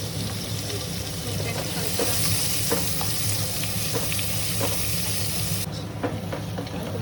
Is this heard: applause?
no